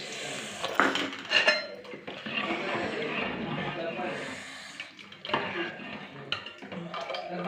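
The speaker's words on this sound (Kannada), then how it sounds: "ಈಗ ಒಗ್ಗರಣೆ ಹಾಕ್ಬಿಡೋಣ ಸಾಂಬಾರು" Tempering for hesaru bele sambar goes into the pot with clinking metal pans and utensils and stirring, while a person talks over the kitchen noise throughout.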